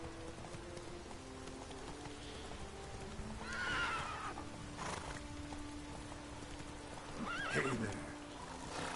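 Roach the horse whinnies twice in Witcher 3's Skellige Isles, clear neighs over soft hoof clip-clops and a patter like light rain, with a brief spoken greeting in between.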